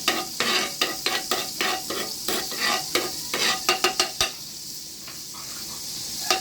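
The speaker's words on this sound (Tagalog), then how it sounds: "Mekos-mekos natin sibuyas." Onions stirred and frying in a hot pan for sizzling squid, a steady close sizzle broken by quick rhythmic scrapes and clacks of a utensil against the pan, which slow and fade toward the end.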